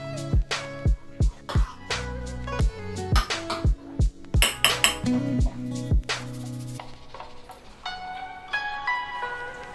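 Spicy Korean bibim-guksu noodles tossed in a bowl: a quick run of sharp clinks and knocks of utensils against the bowl, irregular and close, then easing into quieter ringing tones.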